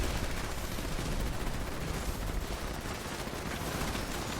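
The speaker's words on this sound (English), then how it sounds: "let's try that artillery again." Dense, sustained artillery barrage in Fallout 76, a steady wall of booming gunfire with no break, loud and close throughout.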